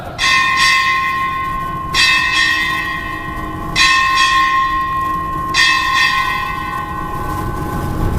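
A ship's bell strikes eight bells at a US Indo-Pacific Command change of command ceremony, loud ringing strikes in pairs about two seconds apart, each ringing on and fading, with no talk.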